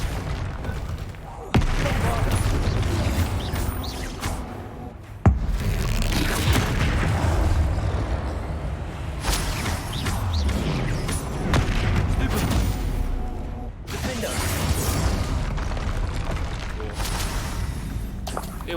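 Spell blasts from the Incendio fire charm in Hogwarts Legacy boom in several heavy bursts with crackling rumbles between them, under a player's voice.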